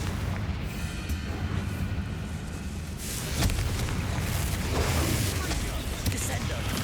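A Confringo blasting spell in Hogwarts Legacy sets off booming explosions in a continuous loud rumble, one stronger burst landing midway, while voices speak over the din.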